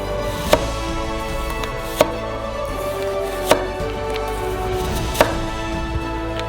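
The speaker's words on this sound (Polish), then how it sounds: "Czerwoną cebulę kroimy w krążki" Red onion sliced into rings with a knife on a cutting board: four sharp, evenly spaced chops about every second and a half, crisp and close against a quiet background.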